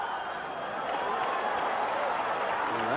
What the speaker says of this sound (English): That got a few oohs out of the crowd.